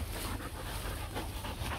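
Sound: Rottweiler puppies panting and whimpering

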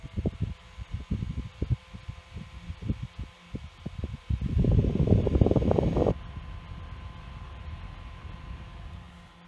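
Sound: small purple USB personal fan running

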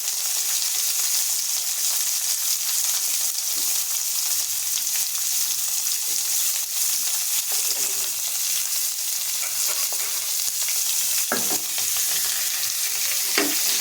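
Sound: stirring vegetables frying in pan

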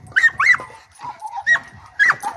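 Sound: young female hound dog whimpering

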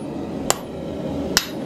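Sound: hammer striking a hot-cut while forging steel

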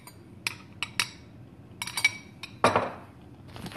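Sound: spoon stirring oatmeal in a bowl

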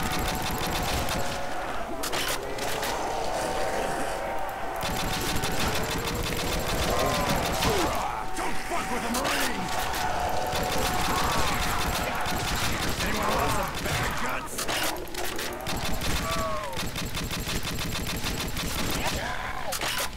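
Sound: gunfire in a Nazi zombie video game

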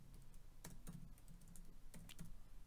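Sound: typing on a computer keyboard

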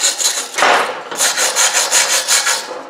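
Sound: wire brush scrubbing a weld on an aluminum engine block

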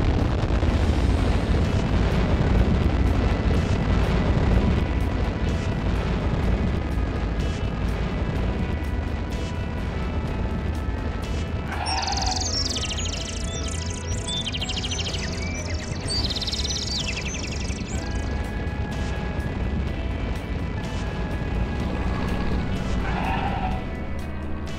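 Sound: cartoon rocket launch blast-off

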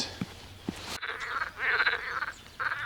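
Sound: frogs croaking

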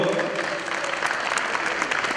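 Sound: audience applause for Tomasz Błyskoń

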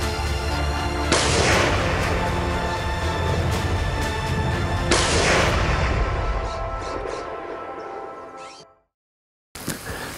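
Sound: gunshot fired at a wild boar while hunting

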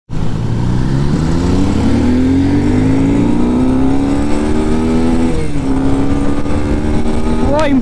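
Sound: superbike motorcycle accelerating

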